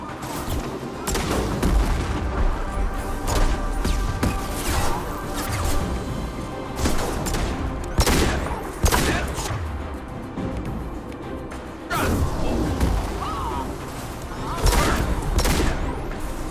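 Rifle gunfire in Mass Effect 2 combat, repeated loud bursts of shots over a dense rumbling battle bed, with impacts and a voice speaking now and then.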